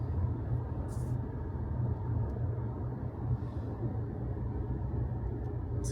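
Low, steady road rumble and faint hum inside a BYD Seal electric car climbing a steep mountain gradient in eco mode, fairly quiet and even, with no talking.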